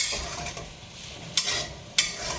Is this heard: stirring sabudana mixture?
yes